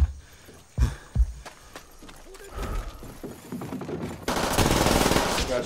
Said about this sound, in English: He just shot me.